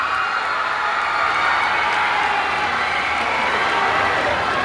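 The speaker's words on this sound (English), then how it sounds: "A round of applause for Ms. Denise Marini Kawa" A school campaign rally audience of students applauds a grade 11 representative candidate with a dense, steady wash of clapping and crowd noise that stays fairly loud throughout.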